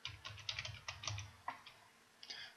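Typing on a computer keyboard, a close, quiet run of rapid key clicks in short bursts with a brief pause before a final flurry.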